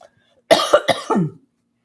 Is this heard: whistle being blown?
no